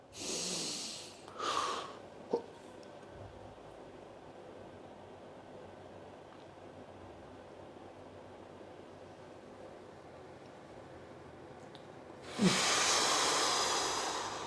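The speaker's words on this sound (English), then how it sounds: "Take a deep inhale." A deep breath taken during a morning back-pain stretching routine, with a loud hissing inhale at the start, a couple of short breaths, a long quiet stretch, and another strong breath near the end.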